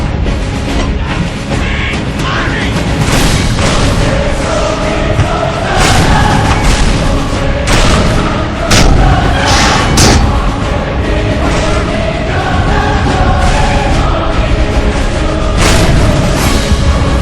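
Guns fire in volleys during a large battle in an online war game, a dense run of repeated booms and thuds that keeps going, layered over a busy crowd-like din.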